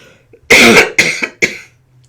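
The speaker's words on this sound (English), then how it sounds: "I'm going to cough right now." Three harsh coughs close to the mic, one long hacking burst followed by two shorter ones, separated by brief pauses.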